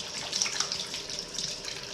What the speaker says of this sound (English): Wash the eggs off my hands.